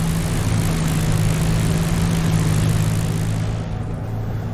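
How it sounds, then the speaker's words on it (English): A Spitfire Mk-IX's piston engine in DCS World idles at 1000-1200 RPM with a loud, steady, droning hum throughout, no voices over it. "At this point the engine is running, so reduce power to between 1000 and 1200 RPM."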